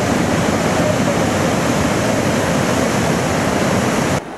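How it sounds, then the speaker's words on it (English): Tumalo Falls, a 97-foot waterfall near Bend, Oregon, roars as a steady, loud broadband rush of falling water that stays unbroken and close until it drops off abruptly at the very end. "The 97-foot high waterfall is worth the rough ride."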